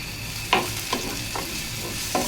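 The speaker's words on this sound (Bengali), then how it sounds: "এখন 1 চামচ চিনি দিয়েও আবার ভাজবো।" Carrots fry in ghee with a spoonful of sugar, a constant close sizzle broken by several sharp spatula scrapes and stirring knocks at irregular intervals.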